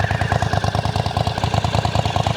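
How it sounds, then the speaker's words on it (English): MBP C1002V motorcycle engine revving with a steady, throbbing burble, close and fairly loud, a continuous pulsing rhythm without talk. "It's got a nice burble, and then it's ruined by Euro 5-edness as it makes it really quiet when you rev it"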